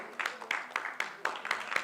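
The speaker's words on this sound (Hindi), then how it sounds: "तो जोरदार एक बार ताली हो जाए" A small audience claps at a seminar on selling products, a sparse, rhythmic patter of hand claps at roughly quarter-second intervals, fairly faint and brief, with a voice murmuring underneath.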